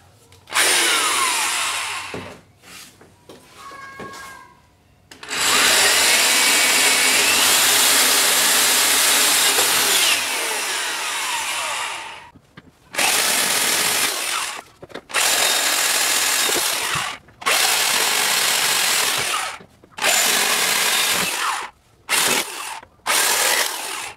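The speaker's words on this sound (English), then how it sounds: "we're going to bore them open with a 9/32 drill bit" A power drill with a 9/32 bit whines loudly in several long bursts with short pauses between, boring holes in a Pontiac Fiero door panel up close.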